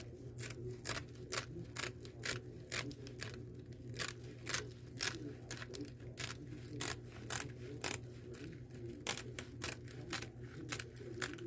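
Scissors snip through deco mesh for a wreath in a steady series of short, crisp cuts, close and soft, with a faint hum underneath and no talking.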